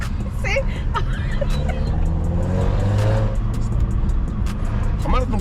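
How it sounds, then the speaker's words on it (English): A car engine hums steadily from inside the cabin while people talk and exclaim over it. "It's just the sound of the car."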